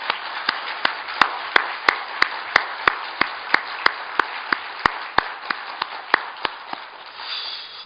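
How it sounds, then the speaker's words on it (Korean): A church congregation claps together in unison, sharp evenly spaced claps about three per second, moderately loud, fading into a soft hum near the end. "하나님께 영광의 박수를 올려드리겠습니다."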